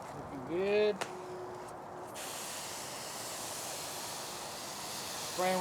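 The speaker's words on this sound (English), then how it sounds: "Spraying with some apple juice here." A burst of fine hissing spray of apple juice onto smoking barbecue meat begins abruptly and runs steadily for several seconds, with a short voiced sound before it and another at the end.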